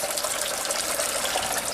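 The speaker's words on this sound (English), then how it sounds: "I have it dripping into the grow beds" Water from an aquaponic pump tube dripping and splashing into grow beds, a steady close hiss of falling water with no pauses.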